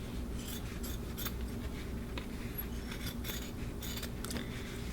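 Scissors trim fabric for a no-sew quilted ornament with a series of soft, close snips and rustles, quiet and irregular with no voices.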